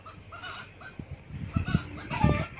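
Chickens and chicks on a Vietnamese farm plot cluck in short, scattered bursts, growing louder toward the end, with a faint outdoor background.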